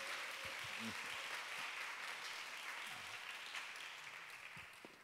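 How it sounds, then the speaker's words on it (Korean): Applause from an audience at a worship-festival talk concert welcoming a university professor onto the stage, a steady distant wash of clapping that fades gently, with faint voices mixed underneath. "박수로 환영해 주시겠습니다"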